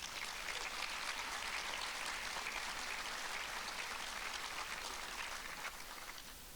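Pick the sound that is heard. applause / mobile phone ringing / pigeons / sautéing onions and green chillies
applause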